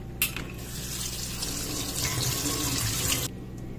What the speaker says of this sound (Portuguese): Vamos escorrer o macarrão.